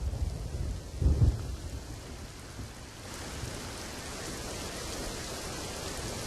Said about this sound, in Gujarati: અરવલ્લીના દ્રશ્યો હાલમાં અમે આપને બતાવી રહ્યા છીએ કે જ્યાં આગળ ભારે વરસાદ છે